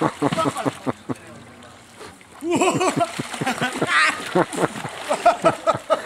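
Water sloshes and splashes in a swimming pool in repeated bursts, close by, with a brief calmer stretch before the splashing picks up again; people talk over it throughout.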